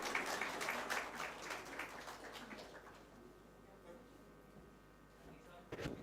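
Audience applause at a cultural gathering, a dense burst of clapping that starts loud and gradually thins and fades over several seconds, with a brief louder spike near the end.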